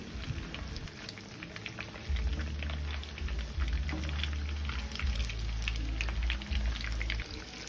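Upo (bottle gourd) omelette frying in a pan, a steady crackling sizzle like light rain that swells louder partway through, with no one talking.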